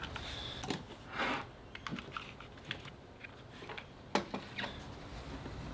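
A computer keyboard and mouse being moved across a desk make scattered, irregular knocks, clicks and brief sliding scrapes, close and fairly quiet, with gaps of near-silence between them.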